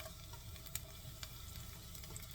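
Chopped garlic and green chilies sizzle steadily in hot oil in a pan, a soft, even frying hiss with a few faint clinks and no talk over it.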